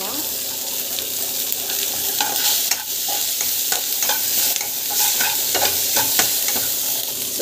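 A pan of chana dal and seasonings for upma sizzles steadily while a spoon scrapes and taps against the metal in irregular strokes, close up with no talking.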